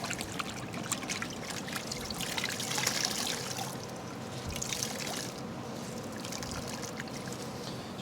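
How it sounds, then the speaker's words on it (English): A damp cloth is dipped into a bucket of water while leather is being cleaned, giving a soft, close trickle and dribble of water that runs for several seconds with faint splashing. "And you're dipping it into the water."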